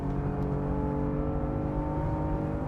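BMW M4 engine in the Assetto Corsa racing game on the Nordschleife, a steady droning hum with a slowly shifting pitch, loud and continuous throughout.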